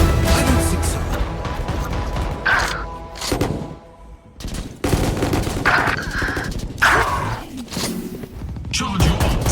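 Rapid bursts of Bandit and Outlaw gunfire in a Valorant deathmatch, loud and close, with repeated sharp volleys and short gaps between shots over game sound effects.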